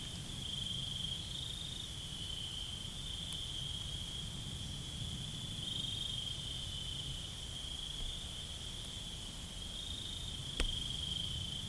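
Insects chirp steadily in the woods, a continuous high buzzing trill layered over a low, quiet ambient rumble, with one faint sharp click near the end.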